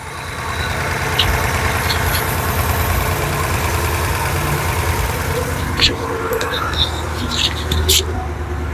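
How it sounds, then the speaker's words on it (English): A Porsche 928 V8 idles steadily at about 1,000 rpm after a few revs, a low, even rumble close by with faint handling noises and a quiet voice over it. "It started doing the wavering idle again when I started it up, and then I revved it a couple times, and now it seems to be pretty stable."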